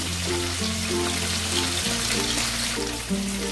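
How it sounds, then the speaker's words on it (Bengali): Hilsa fish pieces frying in hot oil make a steady, loud, broadband sizzle that runs the whole way through, with sustained musical tones playing underneath. "দেখো এই মাছগুলো ভাজা হয়ে গেছে"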